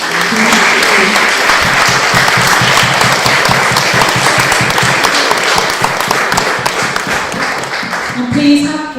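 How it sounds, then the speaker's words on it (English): Loud round of applause from an audience at a book event, closely miked with distinct individual claps in a brisk, steady rhythm lasting several seconds, a voice briefly heard near the end. "can we have a round of applause, please?"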